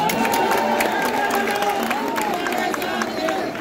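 A large crowd cheers and roars continuously at a political rally in Ulhasnagar, loud and dense throughout, with amplified voices and whistles mixed into the din.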